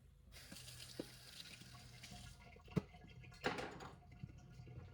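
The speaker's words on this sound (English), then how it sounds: "just rinse off my hands" Hands rinsed under a running kitchen tap while cooking roasted sweet peppers: a faint, steady wash of flowing water for a couple of seconds, then a few soft knocks and splashes at the sink.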